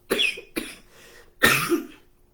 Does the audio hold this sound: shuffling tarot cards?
no